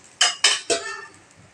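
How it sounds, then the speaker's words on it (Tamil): Three metallic clanks come in quick succession, then a ringing decay, as a lid is set on a pan while appam cooks. The sound is close and clear, with no talking. "கொஞ்சம் எண்ணெய் விட்டுட்டு மூடி போட்டு முடிக்கலாம்."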